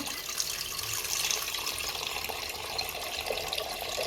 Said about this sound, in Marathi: कुकरमध्ये पाणी घेते